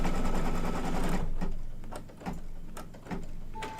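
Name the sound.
embroidery sewing machine stitching a mug rug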